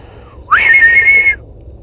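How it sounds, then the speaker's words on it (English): A single loud, sharp whistle from a person calling an animal during a hunt rises quickly and holds a steady high pitch for under a second before cutting off, close and alone. "I'm gonna try and whistle him up"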